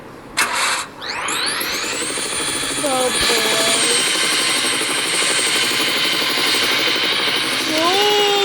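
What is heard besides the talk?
helicopter engine starting and flying in a video game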